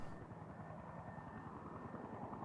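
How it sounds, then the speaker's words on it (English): A helicopter in Farming Simulator 19 flies nearby on a farm map, its rotor beating with a steady throbbing drone throughout, moderately loud and unbroken by voices. "Apparently a helicopter somewhere over there."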